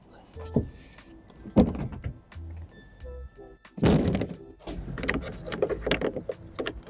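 A folding tonneau cover section on a long-bed Ford F350 is flipped up, giving several hollow thunks and clanks of latches and panels spaced out among quieter handling noises.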